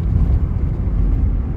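A car drives downhill under light throttle, a steady low engine and road drone from inside the cabin that stays even and fairly loud, with no speech.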